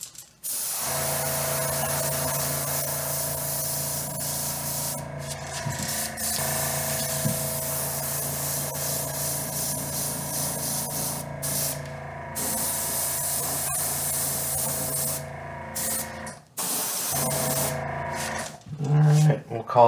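A spray gun applies a second base coat of fluorescent yellow paint, giving a loud, steady hissing spray that runs almost continuously, with a couple of brief pauses and a short break near the end, no talk over it.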